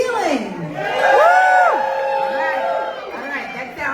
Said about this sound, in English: that sounds more like a tap yard Raleigh crowd